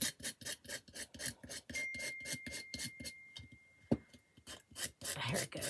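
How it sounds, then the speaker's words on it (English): A razor blade scrapes repeatedly across a vintage bunny-pattern egg craft project, a rapid rhythmic rasping of quick strokes that pauses briefly and then resumes, close and crisp with no talking. "And that's why I got to use the razor blade."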